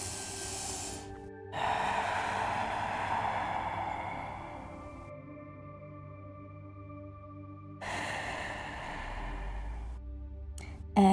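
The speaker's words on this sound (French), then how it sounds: "Encore, prends quelques grandes respirations." Slow, deep breaths during a yoga session for shoulder relief: two long, audible inhale-exhale cycles, close and fairly quiet, separated by a calmer stretch.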